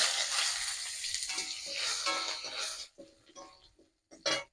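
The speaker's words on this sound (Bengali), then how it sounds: "তরকারিতে ফোড়নের জন্য তেল দিয়ে দিলাম তেজপাতা দিয়ে দিলাম" Bay leaf and dried chilli sizzle in hot oil for tempering a Bengali village-style mixed vegetable dish. A loud, dense crackle runs steadily, thins into scattered sputters, drops nearly silent, then flares in a short sharp burst at the end.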